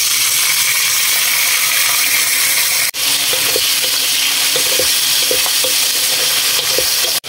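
Loud, constant sizzling of ingredients being stir-fried in hot oil for spicy nasi goreng (fried rice), with occasional light clinks and scrapes of a utensil stirring the pan.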